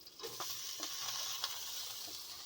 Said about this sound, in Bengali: পেঁয়াজের সঙ্গে ভেজে নেব।